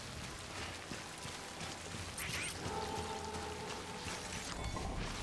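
Rain falls steadily in the video game Death Stranding, a continuous soft hiss of drops on surfaces with faint pattering detail, quiet and even throughout.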